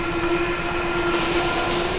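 A Paris Métro line 14 Météor train runs in a tunnel, giving a loud, continuous rumble with a steady whining tone and no breaks.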